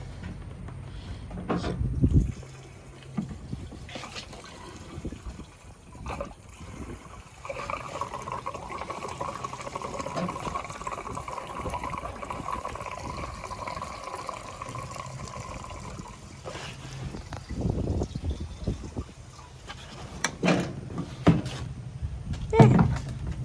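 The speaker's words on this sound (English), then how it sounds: "let's put some good old fuel in there" Fuel is poured into the tank of a tractor mower, a steady liquid trickle mid-stretch, framed by clunks and handling noises at the start and end.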